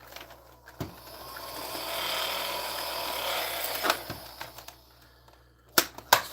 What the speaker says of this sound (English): These flywheels don't sound good.